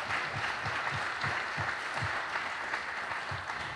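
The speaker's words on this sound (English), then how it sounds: "Let's give our panelists a round of applause before we finish up" An audience claps for the panelists at the close of an immigration panel discussion, a steady round of applause heard alone and at moderate distance throughout.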